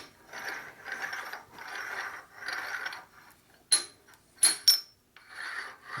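Burred steel parallels from a 1972 Harley-Davidson XL Ironhead Sportster motor rebuild roll roughly, giving close, gritty ratcheting rumbles in several bursts, broken by a few sharp metallic clinks.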